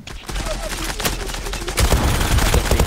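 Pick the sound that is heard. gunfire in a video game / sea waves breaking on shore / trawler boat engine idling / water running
gunfire in a video game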